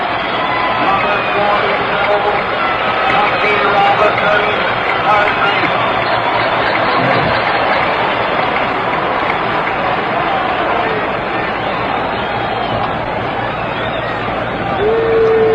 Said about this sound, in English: Jackie Robinson gets a round of applause.